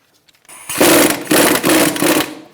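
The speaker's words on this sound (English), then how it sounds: "Using an 18mm socket, we're going to take out the bolts for the caliper bracket." A socket tool loosening the 18mm caliper bracket bolts on the front brakes of a 2005–2010 Chrysler 300: a loud, close mechanical whirring burst lasting about two seconds, pulsing in three surges before cutting off.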